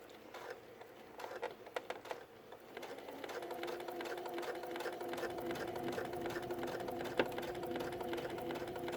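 A sewing machine stitches a seam on a washable face mask with a quarter-inch allowance, running slowly at first in short bursts, then settling into a steady continuous whir close by.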